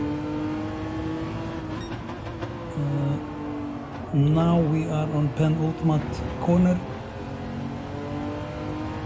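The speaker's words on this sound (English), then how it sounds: "So here we are on the Brands Hatch with Ferrari Testarossa." Ferrari Testarossa engine in a racing video game at Brands Hatch, revving and shifting through corners, rising sharply to loud acceleration midway, with someone talking over it.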